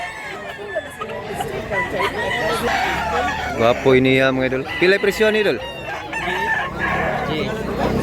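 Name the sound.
rooster crowing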